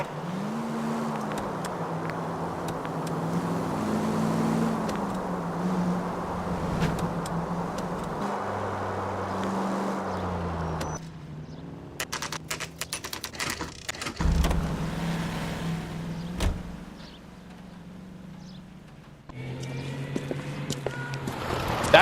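Engine hum and traffic from a 1940s-era car in the L.A. Noire video game as it pulls out of a driveway, with a steady motor drone that drops away partway through, then scattered thumps and clatter; no talking.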